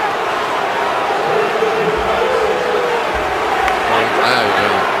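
Football stadium crowd at a Detroit Lions at Green Bay Packers game, a broad, loud, steady roar of cheering spectators with television commentary talking over it.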